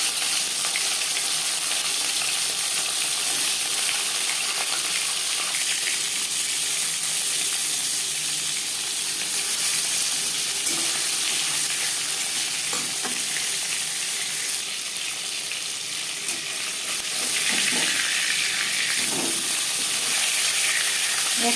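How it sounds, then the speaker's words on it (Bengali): Fish rubbed with salt and turmeric frying in hot refined oil, a loud, steady bright sizzle that holds throughout with a few faint pops and clinks, close by and uninterrupted by talk. "4 চামচ রিফাইন্ড অয়েল গরম করে নিয়েছি। দিয়ে দেব লবণ হলুদ মেখে রাখা মাছ।"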